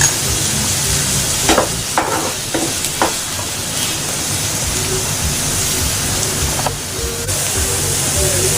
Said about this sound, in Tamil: பச்சை மிளகாய், கருவேப்பிலை போட்டு நல்லா வதக்கிக்கலாம்.